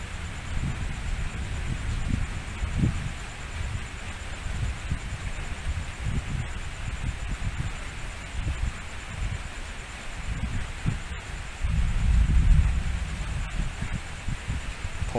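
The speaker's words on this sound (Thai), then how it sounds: "น่าจะเป็นเสียงพัด เสียงลมจากพัดลมผมมากกว่า" An electric fan blows steadily with a soft airy hiss, broken by occasional low thumping bursts of air.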